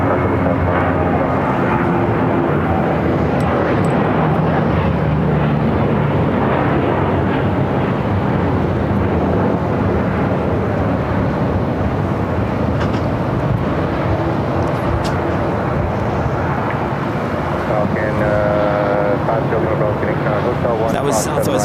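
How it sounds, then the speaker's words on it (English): A Southwest Airlines Boeing 737-700 bound for Salt Lake City takes off at Phoenix airport, its engines roaring in a steady, loud, broad rumble that lasts throughout, with voices talking over it. "That was Southwest Airlines Flight 2285 heading to Salt Lake City, a 737-700."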